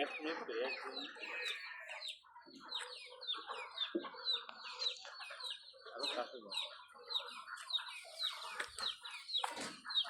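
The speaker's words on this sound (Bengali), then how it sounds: "এইবার হাঁস ঘরে উঠতেছে।" Ducks on a duck farm heading into their house, a dense, continuous chorus of overlapping quacks and calls close by, with no pauses throughout.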